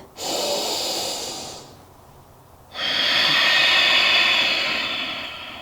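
Slow, audible breaths drawn and released during a held yoga forward fold, two long airy exhalation-like passes separated by a brief quiet pause, close and fairly loud, no talking.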